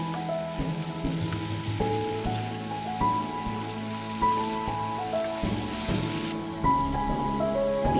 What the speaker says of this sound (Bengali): আর এখন ভাজা করে নিচ্ছি পেঁয়াজকলি